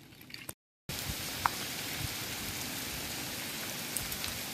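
Heavy rain mixed with hailstones pours down steadily in a village at Dubbaka, Dharpalli mandal, a dense, even hiss close by with a few sharper impacts and no talk, after a brief dropout at the start.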